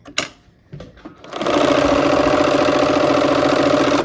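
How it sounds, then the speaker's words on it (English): A sewing machine stitches quilt squares together with a 1/4 inch seam for a Give Thanks quilt. A few light handling clicks come first, then a loud, steady, close motor hum and rapid needle chatter run without a break. "gonna sew the squares together, and then we'll sew the triangles on the end"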